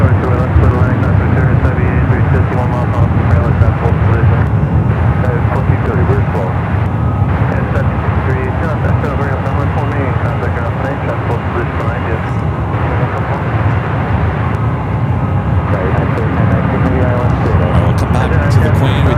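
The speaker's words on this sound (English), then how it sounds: "This is a 747-400. Of course, this aircraft will be retired with Lufthansa within the year" A Lufthansa Boeing 747-400 airliner roars at San Francisco airport, a loud, sustained broadband engine rumble close by, with people talking over it.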